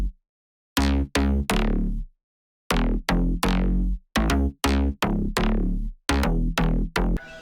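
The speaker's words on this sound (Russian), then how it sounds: "Без эффектов этот участок дропа звучит так." Dry bass section from the drop of a track, played with no effects or sidechain: loud, thick chopped bass stabs in a stuttering rhythm with short gaps between hits, alone with no talk.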